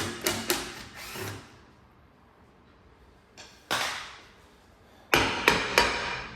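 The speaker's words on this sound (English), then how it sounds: "Couple of taps with a hammer, and then the drum should come off just like that." Sharp metallic hammer taps on a VW Polo rear brake drum come in quick clusters, a few strikes at the start, a pause, then more bursts of ringing blows against metal.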